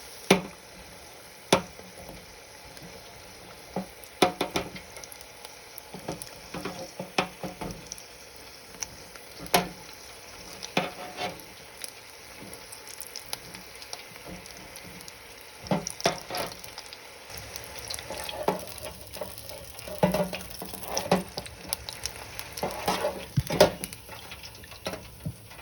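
Beef and potato samosas, some bigger and filled with cheese, frying in a deep fryer, giving a steady crackling sizzle with scattered sharp pops and clatters of handling throughout, with no talking.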